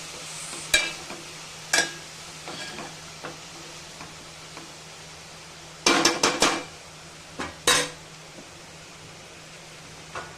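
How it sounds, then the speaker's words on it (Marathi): Korla greens stirred with onions in a pan make a low background sizzle, broken by scattered sharp scrapes and clinks of a utensil against the pan, one cluster of them quick. "हलवली कांद्यामध्ये चांगली खालीवर करून घेऊया।"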